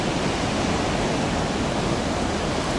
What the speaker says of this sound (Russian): зима дает о себе знать вот такими мощными волнами